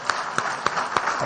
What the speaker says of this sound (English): I think she deserves a huge round of applause